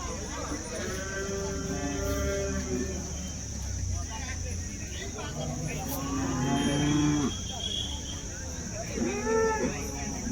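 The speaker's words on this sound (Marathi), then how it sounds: "बारामती या ठिकाणी या अशा गायी, जर्सी गायी उपलब्ध आहेत" Jersey cows moo repeatedly at a cattle market in Baramati, several drawn-out calls rising at intervals over a steady background hum, with someone talking among them.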